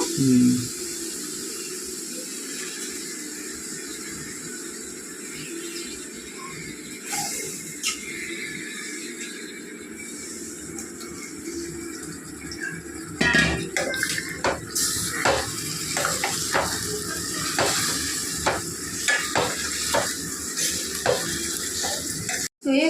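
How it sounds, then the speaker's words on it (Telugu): Mutton drops into hot masala in a pan for gongura mutton curry, giving a steady sizzle with sharp bursts and stirring clatter, while a voice talks over the cooking. "మసాలా వేయింది కదా ఇప్పుడు మటన్ వేసేస్తాను"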